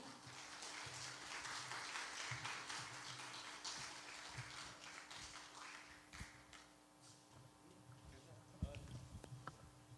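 Quiet audience applause at the opening ceremony of a Korean special physical education conference, a dense clapping wash for several seconds that thins out, with a few faint taps and some speech-like sound near the end.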